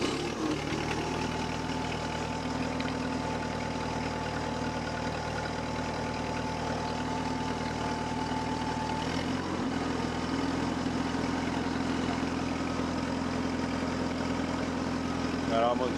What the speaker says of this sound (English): let's go ahead and fire this thing up, and you can hear how she sounds when she's all warmed up